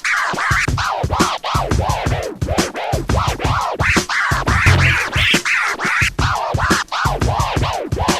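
A DJ scratches a record on a turntable with no fader cuts, producing continuous rapid back-and-forth scratch sweeps in a steady rhythm, loud and alone.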